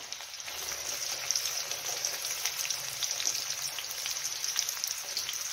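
Ginger and garlic fry in hot oil in a pan, a steady, fairly loud hiss and crackle like rain on a surface that holds evenly throughout, with no talking.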